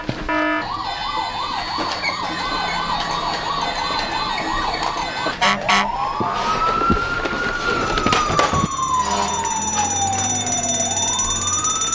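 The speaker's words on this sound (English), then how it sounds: "Did someone pull the fire alarm?" A loud electronic fire alarm siren sounds during pretend play, first with a fast wailing warble, then with long rising and falling sweeps, along with clattering bangs.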